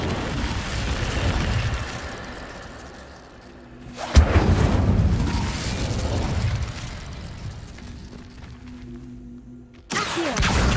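The Incendio fire spell goes off in Hogwarts Legacy as a sudden booming burst midway. A rumbling roar follows and fades, then a second sharp blast hits near the end over a low background hum.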